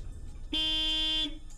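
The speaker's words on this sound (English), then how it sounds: "It'd be nice if I heard a car honk." A single short, bright car horn honk in a video game, steady and clear, lasting under a second against a quiet background.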